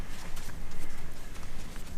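Horse hooves clip-clop in a quick, even rhythm during dressage training, a close run of soft thuds over an arena's background hiss.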